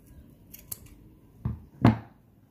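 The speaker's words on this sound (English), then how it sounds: "you grab your scissors. Can you see? Watch me closely. And I'm going to cut it like this" Scissors cutting fabric for handmade rose flowers: a few faint snips early, then two crisp, louder cuts near the end, heard alone without talk.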